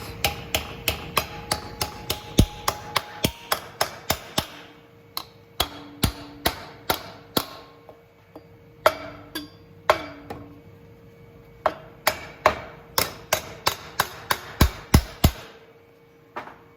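Hammer tapping a tack-welded metal patch down into a hole in a BMW transmission case: sharp, ringing strikes in quick bursts with short pauses between, close and loud, with no talking.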